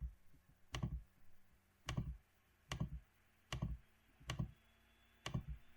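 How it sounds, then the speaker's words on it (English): A computer mouse clicks six times at a steady, unhurried pace while a polygonal lasso selection is traced, each click crisp and close in a quiet room. "And then I'm going to click rather close to the text."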